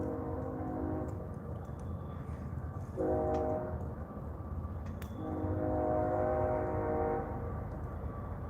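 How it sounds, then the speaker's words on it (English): A passing train sounds its horn in three long blasts over a steady rumble of rolling wheels and cars. "Yep, train number 4, Charles."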